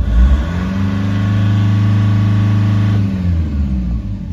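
A Nissan Patrol Y61 with a ZD30 diesel engine, close and loud as it revs up, holds a steady high drone for about two seconds, then drops back toward idle.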